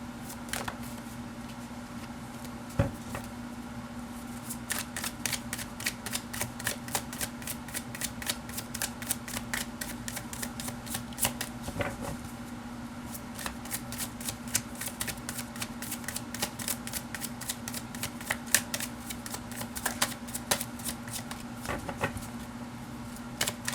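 Tarot cards being shuffled by hand, a long run of rapid riffling flicks with a steady low hum underneath, close and fairly even throughout, no voice.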